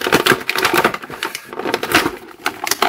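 Black Series clone trooper figures are pried from their plastic packaging, giving close, crinkly cracking and snapping with irregular bursts of crunching plastic and no talking.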